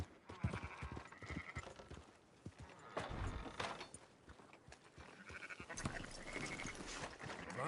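Sheep bleat in the Red Dead Redemption 2 game world, several wavering cries rising over the hollow clip-clop of hooves and rustling movement, moderately near and fairly quiet.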